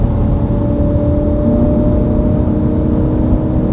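A supercharged car engine roars loud and close in a constant, dense drone with a steady whine over it, on a mountain road with mud slides and rock slides.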